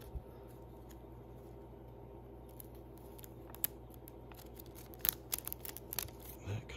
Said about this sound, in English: Then you just carefully peel the backing off.